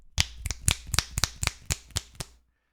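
A rapid run of about a dozen crisp finger snaps, done in place of clapping, sharp and close with uneven spacing, then stopping into silence.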